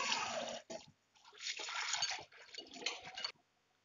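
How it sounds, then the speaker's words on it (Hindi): Water splashes and runs as chana dal is rinsed in a strainer, in several close bursts of trickling and pouring separated by brief pauses. "इसको हम 2 से 3 पानी धुल लेंगे स्ट्रेनर की हेल्प से"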